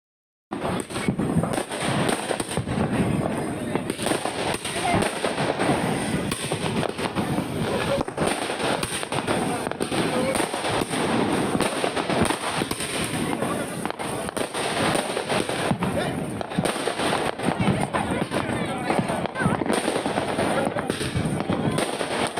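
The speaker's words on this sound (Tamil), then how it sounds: "குடும்பமாக பட்டாசுகளை வெடித்து உற்சாக கொண்டாட்டம்" Diwali fireworks and firecrackers bursting across the city of Madurai at night: a dense, continuous crackle of pops and bangs from many directions, near and far, with faint voices mixed in beneath.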